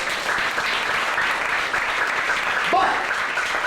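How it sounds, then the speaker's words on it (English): Steady audience applause at a lecture, a moderate wash of clapping held for a few seconds with a brief voice or cheer rising near the end. "Give yourselves a round of applause."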